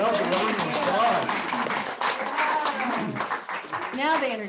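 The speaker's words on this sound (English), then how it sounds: "Give yourself a round of applause." A church congregation at a Sunday service claps and cheers in a dense, sustained burst of applause mixed with voices, loud and close throughout.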